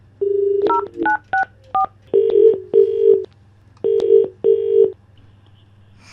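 A phone call being placed: a quick run of short, sharp keypad tones, then a repeating pattern of longer ringback tones sounding in pairs, clear and close.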